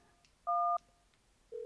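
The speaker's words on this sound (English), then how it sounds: "What can we ring? Let's ring 911." Telephone keypad tones from a phone call in the adventure game Thimbleweed Park: a clear two-tone DTMF beep lasting about a third of a second, a pause, then the start of another tone, clean with no talk.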